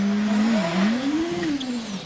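A hill climb race car launches at the Prescott season opener, its engine held at high, wavering revs with some wheel spin, loud and close throughout the short burst with no talking.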